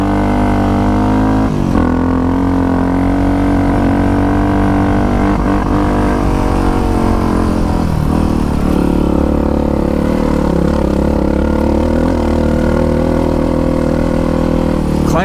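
A 1985 Honda XR350R dirt bike climbing uphill in third gear on desert terrain, its single-cylinder engine droning loud and steady close up with slight shifts in pitch and rattling over bumps.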